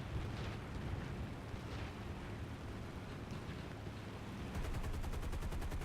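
Bombs dropped from a PBJ-1H bomber in War Thunder burst in deep, rumbling explosions beneath the drone of the aircraft's engines, faint and distant throughout.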